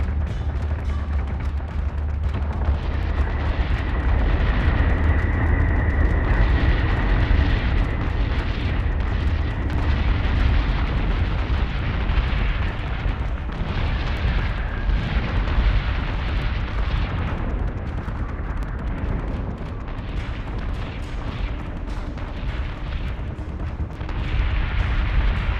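Battlestar guns in the Battlestar Galactica Deadlock space battle game fire in a dense, continuous barrage of booms and bursts, loud and sustained throughout without a break.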